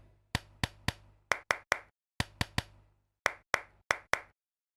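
A sharp clap drum sample plays about fifteen separate hits in uneven groups, each bright and punchy with a short decay, alone and dry in a music production session.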